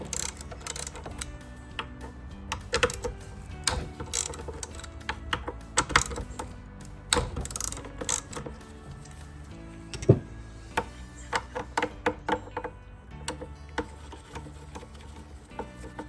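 Ratchet clicking as bolts are backed out of the PCV on a Nissan Patrol TD42 diesel engine, with irregular bursts of quick close ticks and a few sharper knocks, no talking.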